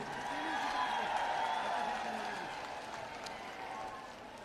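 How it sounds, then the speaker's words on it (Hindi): A political rally crowd applauds to welcome Mayawati on Chaudhary Devi Lal's birthday, a faint, distant wash of clapping and crowd noise, with voices mixed in. "उनके लिए जोरदार तालियों से स्वागत करें"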